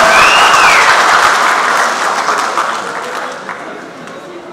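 Crowd applause at a political speech in Nepal, a dense wash of clapping that starts loud and gradually thins and fades, with no talk over it.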